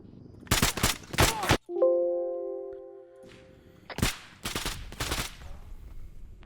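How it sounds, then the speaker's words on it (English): Gunfire in the military video game Arma 3: several sharp broadband shot bursts in two clusters, separated by a few seconds of quieter tonal background. "Are we hearing gunfire?"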